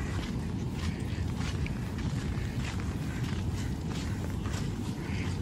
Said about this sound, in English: That is the sea roaring.